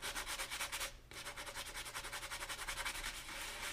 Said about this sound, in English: Go back to your sanding block and sand around the hole after the CA is cured.